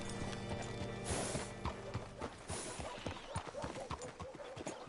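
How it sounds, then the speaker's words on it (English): Horse in the Red Dead Redemption 2 western game, hooves clip-clopping at a walk with a whinny near the start, close and fairly loud over soft ambient background. "Hitch your horse up here."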